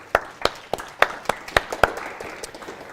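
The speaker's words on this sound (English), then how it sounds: "Big round of applause for those guys." A small audience at a Melbourne AWS user group meetup claps in a sparse, uneven patter of distinct, fairly close handclaps spread over a few seconds, with no voices.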